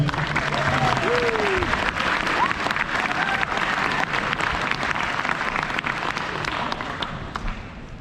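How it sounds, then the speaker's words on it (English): A round of applause at a youth soccer club's presentation day fills the room, dense and steady clapping with crowd cheers and a few whistles, thinning slightly toward the end. "let's get one more round of applause for the two"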